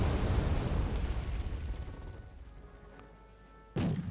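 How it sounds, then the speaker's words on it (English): Grenade launchers firing on heavy armor in the Wargame Red Dragon video game: a loud booming blast rumbles and slowly fades, then a sudden sharp burst cuts in near the end. "Grenade launchers against heavy armor"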